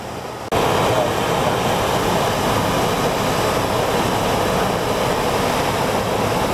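A small propeller training airplane landing at Potomac Airfield in Fort Washington, Maryland, with a steady loud engine and wind drone filling the cabin throughout after a brief quieter start.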